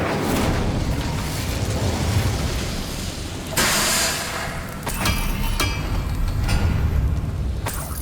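Incendio fire spell in Hogwarts Legacy bursting in a series of loud blasts and whooshes, several sharp cracks cutting through a dense rumbling roar, with no talk.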